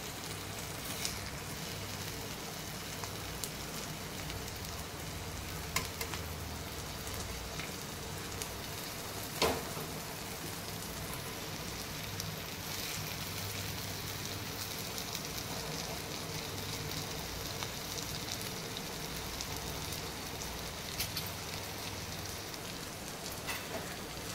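Pav and bhaji heat on a flat street-food griddle pan, giving a steady, even hiss of sizzling that runs unbroken throughout at moderate volume, with no voices.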